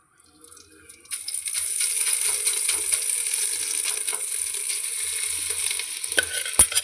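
Khoya is stirred and melted in a pan over low heat for a Lohri sweet, a bright steady sizzle with scraping spoon strokes that begins after a quiet second and ends with a few clinks.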